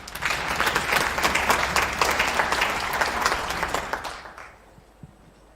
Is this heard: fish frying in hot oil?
no